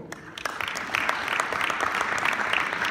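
An audience at a convention booth claps in applause that swells after a quieter start and holds steady, a crowd of hands sounding moderately near with no speech over it.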